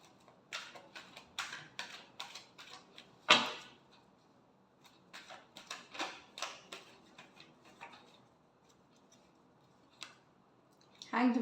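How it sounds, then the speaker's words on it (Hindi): A tarot card deck shuffled by hand, heard as soft, close riffling and flicking bursts in uneven clusters with quiet gaps, plus a sharper snap or two. "Last shuffle."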